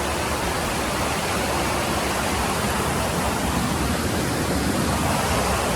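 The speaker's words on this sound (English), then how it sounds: "This is Six Finger Falls, really well known in this area." Six Finger Falls, a waterfall in the Ozarks, pours in a steady, loud, broadband roar that stays constant throughout with no voices over it.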